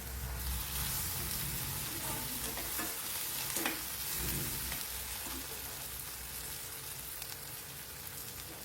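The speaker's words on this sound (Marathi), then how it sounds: "ते कोथिंबीर, टमाटा आणि कांदा हे तेलावर छान परतून घ्यायचे अशा पद्धतीने" Coriander, tomato and onion sauté in hot oil with a steady, loud sizzle. Occasional soft stirring scrapes run through it, and no one speaks.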